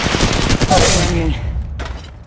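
A loud, close burst of rapid automatic gunfire in the battle royale video game Apex Legends Mobile rattles for about a second and fades, and one more shot comes near the end.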